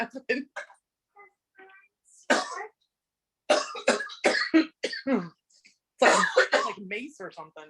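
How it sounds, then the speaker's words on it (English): Bursts of coughing and throat clearing from spicy serrano pepper fumes during a stir fry cooking demo, several short harsh coughs scattered among talking voices. "How are you not coughing"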